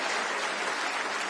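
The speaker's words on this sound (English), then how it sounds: "Big round of applause" Studio audience on a game show clapping in a brief, dense burst at steady loudness, with no talk over it.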